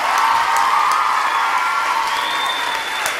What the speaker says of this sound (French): je voudrais qu'on fasse des applaudissements chaleureux pour Monsieur Bruno Desbioles à la batterie aux